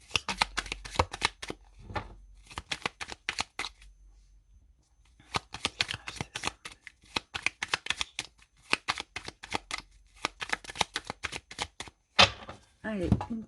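Tarot cards being shuffled and cut by hand, a series of quick papery riffles and slaps in uneven bursts with pauses between, close and clear, ending with a sharper snap.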